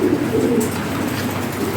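Pigeons, European toy Lahori Sherazi and racer birds, coo steadily and close by in a low, continuous murmur, with no talking.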